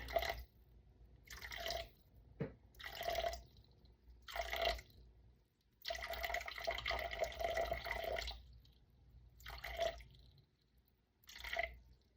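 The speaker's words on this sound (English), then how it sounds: "So now I'm gonna put the rest in water." Water runs in several separate bursts into a kitchen container of apple pie filling being weighed for homemade sourdough, with short trickles and pours between quiet pauses and no talk.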